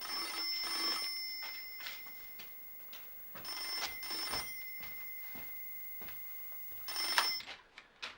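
A telephone rings in a home in a TV drama, giving three separate bursts of bright trilling bells spaced a few seconds apart, fairly quiet and with no talk over them.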